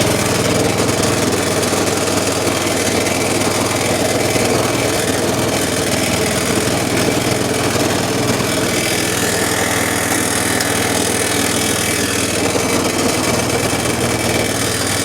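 A go-kart with a 212 small engine runs steadily nearby, a loud, buzzing mid-pitched engine drone with a rough knocking texture that holds constant throughout.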